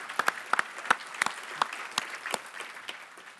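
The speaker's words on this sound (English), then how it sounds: "Let's give these Category 3 finalists a round of applause." An audience at a business awards ceremony claps for category finalists, a moderate patter of many hands with sharp individual claps standing out, fading slightly toward the end.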